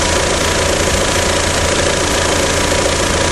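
A GM Vectra 2.0L 8V or 2.4L 16V fuel-injected engine runs close by with a loud, steady, unbroken mechanical hum and vibration, with no speech over it.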